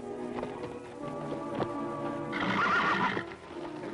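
A horse neighs loudly and whinnies close by while hooves clip-clop on the ground, in an old 1950s television Western setting with a musical score underneath.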